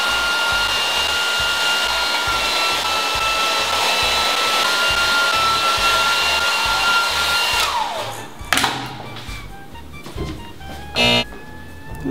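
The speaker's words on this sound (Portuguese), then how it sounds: "Eu já tentei secar ele também com o secador." A hair dryer blows steadily at close range while drying a burnt phone, a loud constant whirring rush that cuts off after about eight seconds, followed by a few clicks and handling knocks.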